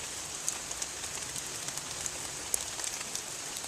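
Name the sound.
rain falling outdoors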